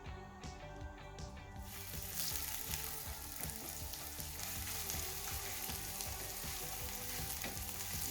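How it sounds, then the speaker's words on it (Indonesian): Garlic and onion sautéing in a pan for chicken curry puffs, a steady close sizzle that swells after the first seconds and keeps a bright hissing crackle throughout. "Kita masukkan 2 macam bawang putih dan bawang bombaynya. Kita tumis sampai"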